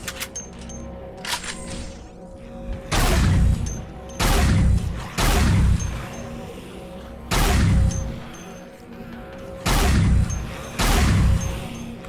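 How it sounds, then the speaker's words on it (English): Repeated loud explosions in the zombie shooter Dead Effect, including a grenade-carrying zombie blowing itself up, with about seven heavy booming blasts at irregular intervals over a steady game background hum. "Oh, grenade zombie. Oh, he just blew himself up."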